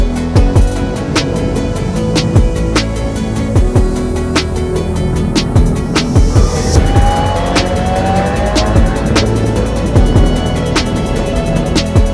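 Race cars practicing at the Mandalika circuit in Lombok make a steady, loud engine roar with repeated sharp clicks and high whines as they pass near and fade, without any talk.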